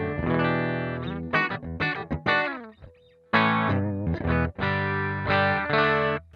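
A dry clean guitar amp on a Headrush Gigboard with chorus and reverb switched off, playing a sequence of plucked chords and single notes that stop sharply, close and clear with a short break midway.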